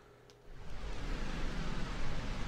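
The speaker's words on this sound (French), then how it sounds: "Ok, c'est le son des vagues," An underwater wave ambience in the Minecraft Tropicraft game starts as a soft, steady wash and swells into a louder, rumbling surge after half a second, with no voices.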